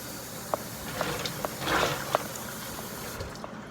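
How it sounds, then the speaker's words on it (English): Water running into a cooking pot to cover eggs for boiling, a steady splashing fill with a few scattered drips and clinks, fairly quiet and close, with no talking. "we're just gonna fill it up there until it covers the eggs really well."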